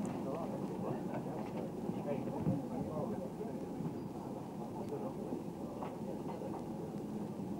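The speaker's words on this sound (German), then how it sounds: "Während unser Zug noch die Vorstadtbahnhöfe von Mainz durchfährt" Rheingold passenger train passing through the suburban stations of Mainz, heard from on board: a steady low rumble of running wheels with faint rail clicks, carrying on evenly throughout.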